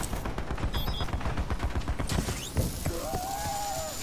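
Gunfire from a KN-57 rifle in the video game Call of Duty: Black Ops 4, a rapid run of sharp automatic shots followed by scattered bursts, with a few mechanical clicks and a faint rising tone near the end.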